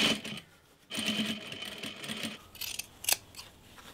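A sewing machine stitching bias tape onto the neckline of a vintage blouse, whirring in short close bursts with pauses between runs and a sharp snip near the end.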